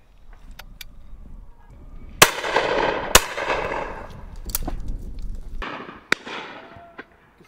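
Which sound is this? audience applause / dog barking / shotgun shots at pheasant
shotgun shots at pheasant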